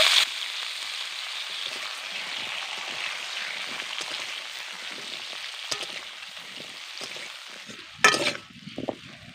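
Cut pumpkin pieces frying in a pan with panch phoron and green chilies, a dense steady sizzle like light rain, close, with a sharper crackle and clatter near the end.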